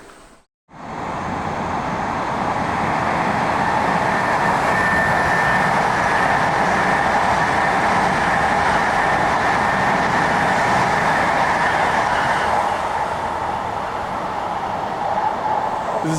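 A train rolls steadily past in open countryside near Aomori, Japan, a loud, sustained rumble and rush that holds almost unbroken across the whole stretch after a brief quiet start.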